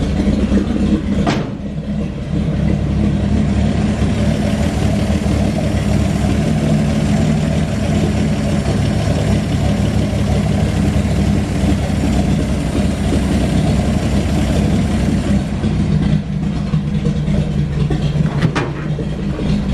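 A 1951 Chevy pickup, its engine freed from seizure, idles steadily up close with a loud, even low rumble that holds for the whole stretch.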